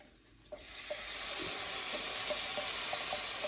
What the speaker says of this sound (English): This is the garlic and ginger that's been whizzed up into sort of a rough chopped paste with some water. I'm going to add that to the pan.